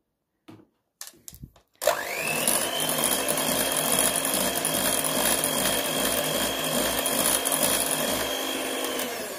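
An electric mixer whips custard cream with butter, starting after a few faint knocks and then running as a loud, steady whir with a constant high whine until the end.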